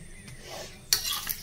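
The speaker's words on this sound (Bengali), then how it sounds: "ভাজা চলছে।" A sattu-stuffed paratha frying in a pan, a soft close sizzle with a short scrape of a utensil and a sudden louder burst of hissing partway through; no voices.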